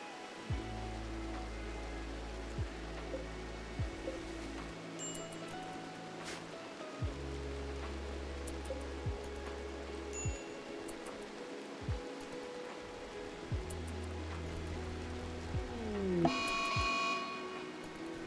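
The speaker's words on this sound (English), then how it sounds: "Hey wait, the rain sounds different." Steady rain falling in the video game Rimworld, a broad continuous hiss layered under low game music and scattered soft clicks, with a brief swelling sweep near the end.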